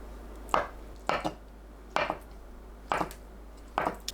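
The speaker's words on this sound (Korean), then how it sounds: "파와 청양고추는 어슷 썰어 준비합니다" A knife chops scallions and chili peppers on a cutting board, five crisp separate strokes, some doubled, spaced roughly evenly and heard close up with no talk.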